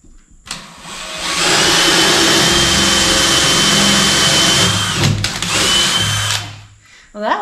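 A power drill bores through a wooden wall stud during house plumbing and electrical work, a loud, steady whining drone for about six seconds that briefly dips near the end before stopping, heard close up.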